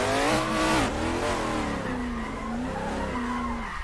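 A drifting car in Assetto Corsa, during a Bushido Drift Championship round, squeals its tires continuously while the engine revs and whines up and down, loud and close throughout.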